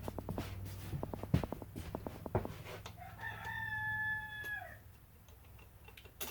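A rooster crows once in the near distance, a sustained harmonic call lasting over a second, following a run of sharp metallic clicks and taps from mechanical work on a KTM 450SXF motorcycle transmission and crankcase.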